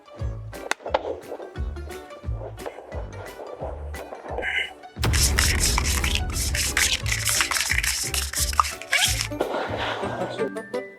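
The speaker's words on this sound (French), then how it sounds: "je vais le cacher sous l'une de ces assiettes et commencer à les mélanger" Plates slide and clatter across a table while being shuffled for a hide-and-find guessing game: a run of separate knocks, then several seconds of fast, continuous scraping and rattling, up close, with faint voices in the background.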